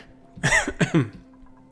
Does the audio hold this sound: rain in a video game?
no